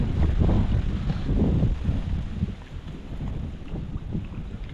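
Strong wind blowing outdoors near water, buffeting the microphone with loud low rumbling gusts that swell and ease over a few seconds, no voices.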